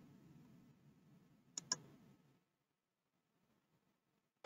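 A couple of quick computer mouse clicks while printing from Microsoft Word, sharp and close, over faint low murmuring that fades to near silence.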